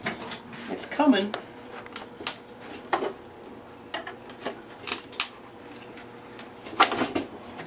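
A fiberglass part being worked loose from its mold gives scattered small cracks and ticking snaps, faint and irregular, mixed with handling clatter.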